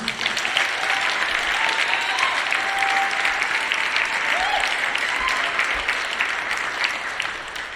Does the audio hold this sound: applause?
yes